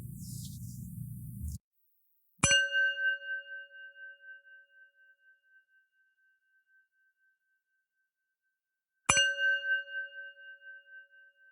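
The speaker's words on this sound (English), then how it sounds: "The show will begin after the following chimes." Two clear meditation chimes ring out several seconds apart, each a bright struck tone that lingers and fades slowly into silence.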